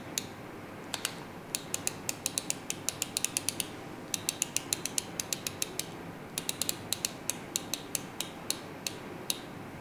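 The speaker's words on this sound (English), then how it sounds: "because the sound and ratcheting mechanism that it makes is really satisfying" An LTT screwdriver's ratcheting mechanism clicks as it is spun, rapid bursts of sharp, close ticks in quick runs separated by short pauses, over a faint quiet background.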